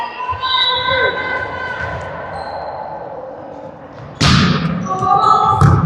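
A volleyball is served and struck during a U14 girls' semifinal match, with a sharp slap around the middle of the clip and another hit near the end over gym echo, under a commentator's voice.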